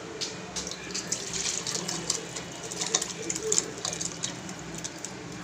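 Soup water is poured into a vessel, giving a steady splashing, trickling stream with small gurgles and spatters, close and moderately loud throughout.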